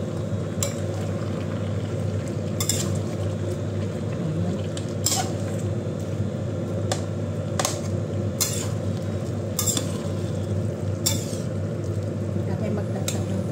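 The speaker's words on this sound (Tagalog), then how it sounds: "So, stir continuously para makita natin kung masama yung asukal." Sugar being stirred in a pan for igado, a Filipino pork and liver dish, with repeated sharp scrapes and clinks of a spoon against the metal at irregular intervals over a steady background hum.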